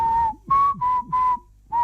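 A person whistles All Star by Smash Mouth, four clear sustained notes separated by short breaths, close and loud, alone with no talk.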